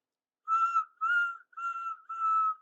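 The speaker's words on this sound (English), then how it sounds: "Whistled Toby." Four clear, high whistle blasts in a steady rhythm, each about half a second long with short gaps, loud and alone with no talking.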